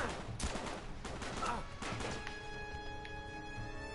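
Video game gunfire from Uncharted 3: rapid bursts of shots and impacts close up, in a busy, continuous run, with someone talking over the action.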